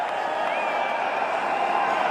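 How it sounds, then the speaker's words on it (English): A steady, distant roar of a cricket stadium crowd cheers a boundary struck in an India versus Australia one-day match in 2013, a continuous wash of massed voices with no break. "The crowd finally getting into it."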